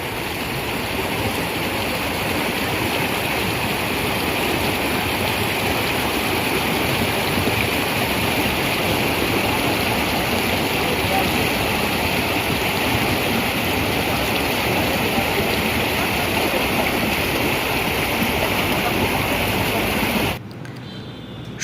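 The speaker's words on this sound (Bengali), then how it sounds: "সুবর্ণরেখা নদী" The Subarnarekha river flows at Ghatshila, a loud, unbroken rush of water lasting about twenty seconds before cutting off abruptly near the end.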